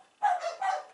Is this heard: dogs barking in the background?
yes